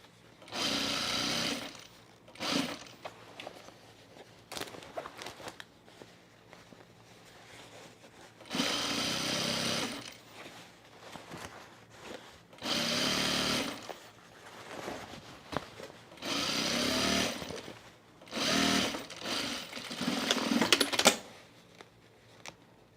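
Sewing machine hemming jean shorts in short bursts of fast mechanical stitching, each a second or two long, separated by quiet pauses, fairly close.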